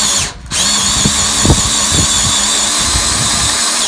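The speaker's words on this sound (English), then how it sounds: "I want to try not to kick this drill one way or the other." Power drill boring steadily into a timber frame, a loud continuous whine close by with a brief dip near the start and a few low knocks as the bit bites.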